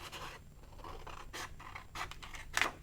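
Scissors cutting out a paper shape, a few short crisp snips and scratchy scrapes close by, quiet and uneven, with no talking.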